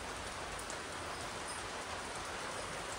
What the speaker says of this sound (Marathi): पाऊस जायला पाहिजे ना